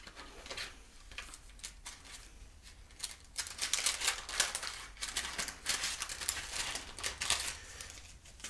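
Parchment paper is handled and crinkled up close, giving an irregular run of crisp rustles and crackles that grow busier midway, with no talking.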